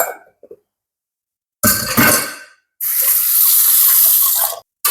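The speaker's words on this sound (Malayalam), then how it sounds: "ഇച്ചിരി വെള്ളം കൂടെ ചേർത്തിട്ട്" Water splashes and runs into a cooking pot in two bursts, a brief gush followed by a steadier pour lasting a couple of seconds, close by, with short pauses between.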